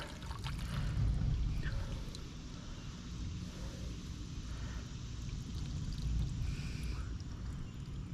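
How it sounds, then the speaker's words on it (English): Water pours off a soaked manure sample being tested, a steady low trickle and slosh running for several seconds, fairly quiet and alone. "All right, so now we're going to get rid of the rest of this water."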